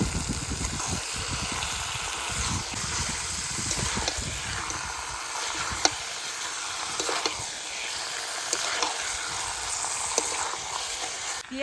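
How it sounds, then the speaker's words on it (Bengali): Goat mutton being stirred and fried in spiced oil for a thin curry, giving a steady, dense sizzle and hiss with a few scraping stirs and small clicks across the whole stretch. "এবার মাংস দিয়ে দেবো"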